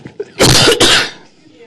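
A single harsh, loud cough-like burst from a person, close and dry, with a brief break midway and a short lead-in breath, followed by quiet.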